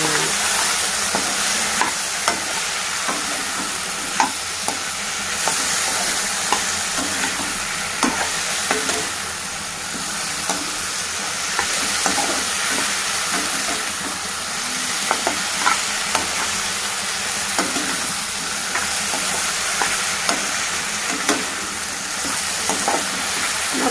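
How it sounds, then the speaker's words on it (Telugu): Okra with turmeric being stirred in a frying pan, a continuous sizzle with frequent scraping clicks of the spoon against the pan, fairly close and steady with no voice over it. "ఇప్పుడు మనం బెండకాయలు పసుపు వేసాము కలుపుకోవాలి కలుపుకోవాలి"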